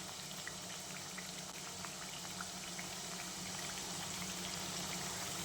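Jowar chakli frying in hot oil over a medium flame gives a steady, dense sizzle and bubbling that runs unbroken throughout, close and fairly loud, with no voices.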